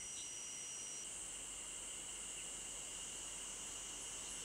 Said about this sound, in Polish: W lesie rozlega się głośny, brzęczący dźwięk. To cykady.